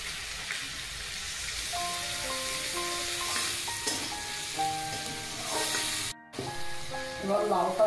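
Turmeric, cumin and coriander ground into a paste with water sizzle steadily as they fry in a pan for mug dal with bottle gourd, with a faint tonal sound running in the background and no talking.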